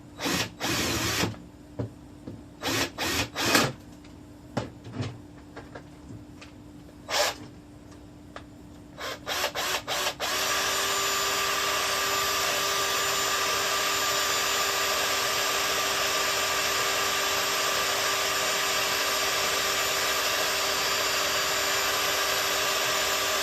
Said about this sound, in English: I'm going to drill a bigger hole.